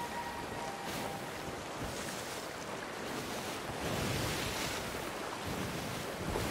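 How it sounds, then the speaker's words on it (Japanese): Big ocean waves in the pirate video game Sea of Thieves wash and surge continuously, with loud broadband surf and gusty wind-like noise swelling up toward the end, no talking. "波実際こんなでかいの？"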